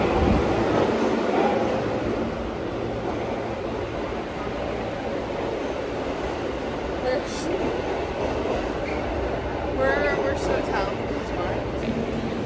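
A New York City subway L train rumbles and clatters along the track in a loud, continuous roar, with brief metallic squeals and people talking faintly over it.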